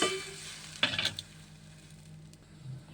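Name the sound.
tamarind extract poured into hot pan, sizzling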